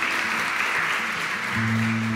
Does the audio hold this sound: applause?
yes